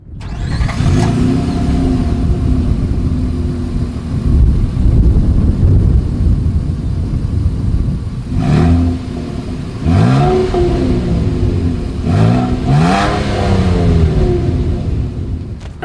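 A 2023 Nissan Frontier SV with a single exhaust outlet idles loudly nearby, then is revved several times in short bursts, the engine note climbing and falling with each blip.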